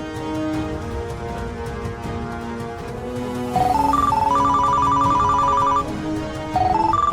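A phone rings with an incoming call, a loud electronic ringtone melody that plays close and clear, with repeating rising note patterns and short gaps, over a steady low background.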